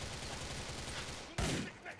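Gunfire in the video game GTA IV, a dense burst of rapid shots rattling against a noisy background, followed by one louder blast near the end.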